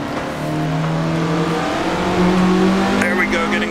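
A 1967 Russell Alexis Mk.14 Formula Ford race car in Assetto Corsa drops down to second gear, its engine note holding a steady loud drone that shifts pitch around the downshift while someone talks over it.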